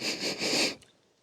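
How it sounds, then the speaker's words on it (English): A person takes a single sharp sniff inside a damp, musty Nissan car interior, close up and alone, then a quiet pause. "All right, and let's have a sniff."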